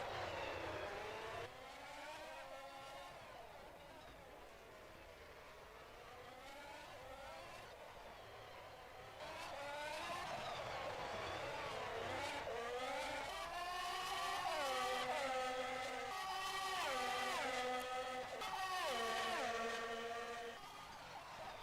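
Formula 1 race cars in rFactor 2 at Monaco climb the hill toward Casino Corner, their high-pitched engines revving and shifting through gears as several cars pass in succession, growing louder near the end.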